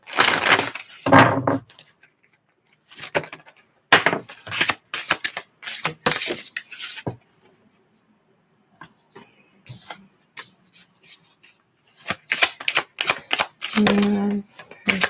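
Tarot cards shuffle in bursts of crisp riffling and slapping, close and fairly loud, broken by quiet gaps, with a few brief words spoken in between.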